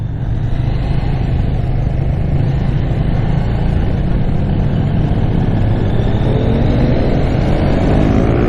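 A KTM Duke 790 A2 motorcycle engine pulls hard under acceleration, a close, loud, continuous growl whose pitch climbs steadily toward the end.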